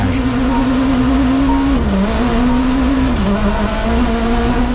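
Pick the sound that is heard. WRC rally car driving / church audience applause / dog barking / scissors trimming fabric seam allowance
WRC rally car driving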